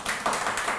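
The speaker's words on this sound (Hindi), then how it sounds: "ताली बजाओ यार" A brief burst of clapping from a studio audience on a talk show, soft and short, with a few overlapping claps and no voices.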